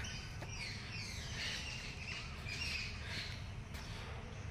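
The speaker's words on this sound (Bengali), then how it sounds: "তার সাথে পাখির কিচিমিচি, কোকিলের কুহু কুহু ডাক" Birds chirp and squawk by a lake at a village resort in the morning, with several calls rising over a steady, loud wash of outdoor ambience.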